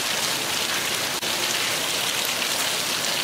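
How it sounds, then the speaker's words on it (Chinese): Heavy rain pours steadily outdoors, a dense, loud, even hiss of drops hitting surfaces with no voices. "现在一下雨了，下大了"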